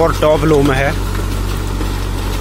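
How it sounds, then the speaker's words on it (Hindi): A Mahindra 475 DI tractor, pulling a 12-disc harrow, runs at a steady 1500 RPM with a continuous low engine drone; someone speaks briefly over it at first, then the engine carries on alone. "1500 RPM पर ट्रैक्टर चल रहा भाइयों"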